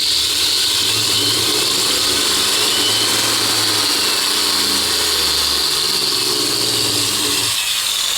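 An AC motor runs on a speed controller with a loud, steady electric whir and hum that holds without a break throughout.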